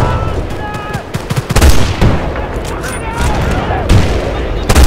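Gunfire in the video game Battlefield Bad Company 2: Vietnam, loud irregular shots and booming impacts over a noisy battlefield, with a person talking throughout.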